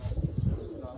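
Pigeons cooing and stirring close by on a hot day, a low soft murmur of coos with faint chirps and light wing flutters over about a second.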